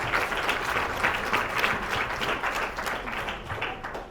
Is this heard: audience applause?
yes